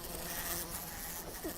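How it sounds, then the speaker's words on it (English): A housefly buzzes steadily and close by, a continuous droning whine that fills the short moment alone, with no voices over it. "there's a fly, and it's buzz, buzz, fly,"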